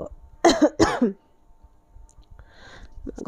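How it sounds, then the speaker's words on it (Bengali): An adult with a cold gives two harsh, close coughs in quick succession, followed by a short quiet stretch with faint murmuring and rustles. "কাশি হচ্ছে একটু"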